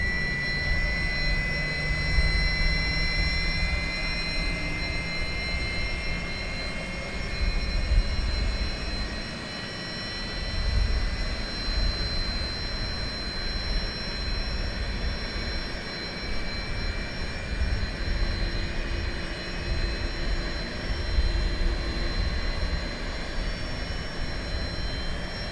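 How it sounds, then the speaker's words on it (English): In a simulated iniBuilds A300-600R, the number 2 jet engine spools up with a steady, loud whine and rumbling roar, thin high tones rising slowly over a constant broadband rush. "Engine number 2 starting."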